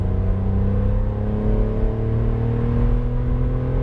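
A 2017 Toyota Aygo's small raspy engine pulls hard under full throttle while joining a dual carriageway, a loud, steady droning hum with rising tones held close throughout, heard from inside the car with no talking.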